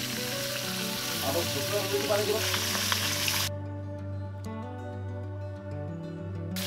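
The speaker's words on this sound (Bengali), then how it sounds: "মাছগুলো কিন্তু একটু কড়া করে ভাজতে হবে, মানে একটু দাগ লাগিয়ে আর কি।" Rohu fish fry crisply in hot oil in a wok, giving a steady close sizzle that is louder at first and then softens, with tonal background music throughout.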